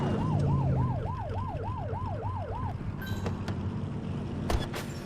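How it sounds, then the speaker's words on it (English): A police car siren in The Precinct video game wails in a loud rising and falling cycle near the listener, then cuts off, leaving engine hum and a few brief sharp clicks. "Get behind them and flip the siren and make them pull over."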